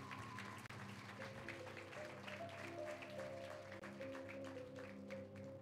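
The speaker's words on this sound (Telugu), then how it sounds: "ఈరోజు వాక్యం చేత దీవించబడ్డామన్న వారు గట్టిగా చప్పట్లు కొట్టి స్తోత్రం చెప్తారు." A church congregation claps loudly and steadily in praise, a dense unbroken wash of many hands, with sustained musical tones beneath.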